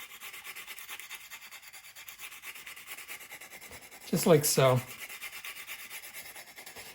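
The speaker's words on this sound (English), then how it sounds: "So I'm just knocking down the high part with this somewhat coarse sanding stick," A somewhat coarse sanding stick rubs over a high spot on a plastic Tamiya 1/48 F4U-1A Corsair model kit, a short burst of close scratchy strokes under a quiet background, with a brief spoken phrase nearby.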